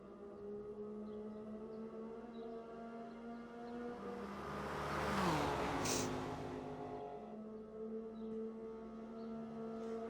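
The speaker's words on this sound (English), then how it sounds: "That's one of the hypercars slipping by" A hypercar in a Le Mans 24-hour racing game sweeps past, its engine whine swelling to a close peak around midway and then fading, over steady engine drone from other cars.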